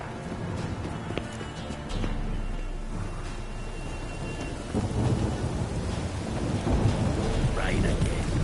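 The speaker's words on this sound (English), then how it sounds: "Rain again." In The Witcher 3 video game, steady rain hisses while deep thunder rumbles and rolls, the storm swelling louder toward the end.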